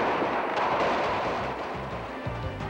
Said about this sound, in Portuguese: Tiros no Haiti.